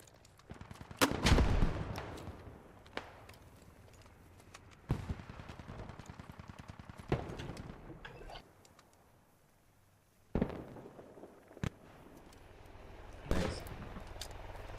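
Grenade blasts and gunfire in a milsim video game: a loud burst early on followed by bursts of rapid automatic fire and scattered single shots at varying distances, some thuds distant and muffled.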